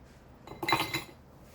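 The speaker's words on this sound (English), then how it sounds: "Into that glass, you will put ice." Ice cubes clinking into a rocks glass, a short cluster of bright glassy chinks up close, fairly quiet, with no talking.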